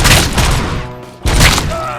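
Burst of gunfire in the shooter RoboCop: Rogue City, two loud dense volleys split by a short lull, with heavy thumping impacts close up.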